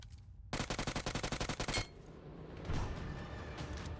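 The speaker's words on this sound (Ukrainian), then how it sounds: "Ще хтось ззаді стріляє." Rapid bursts of automatic gunfire in the video game PUBG Mobile rattle in a fast regular string, then give way to a louder, noisy roar of continued shooting and explosions.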